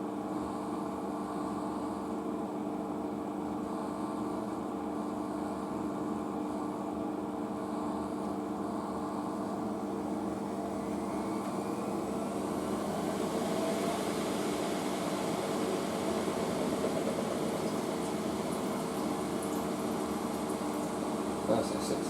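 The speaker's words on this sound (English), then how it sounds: "Machine's doing another spin." A washing machine on its spin cycle gives a steady mechanical drone and hum that grows slightly busier and louder partway through, continuous and fairly close throughout.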